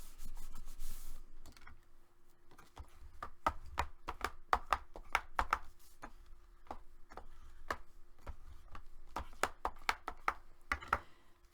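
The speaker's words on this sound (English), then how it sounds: "And burnish that down." Paper being burnished down by hand on a handmade Midnight Kiss folio, a series of sharp, dry rubbing strokes in uneven bursts, close and fairly quiet, with no talking.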